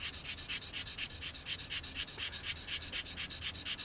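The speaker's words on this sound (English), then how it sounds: "just a bit of very localised sanding rather than a full-blown seam clean-up" Steady, rhythmic, localised sanding strokes on a 1/72 scale Eduard Spitfire Mk IX plastic model rasp back and forth close by, a quick repeated scratchy rubbing with no voices.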